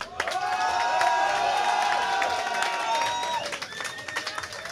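A crowd at a gaming magazine's 15th anniversary party claps and cheers in a lively burst that gradually thins out, with voices calling out over the scattered applause.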